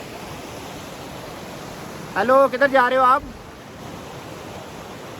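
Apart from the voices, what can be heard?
flowing stream water at Jabri meadows campsite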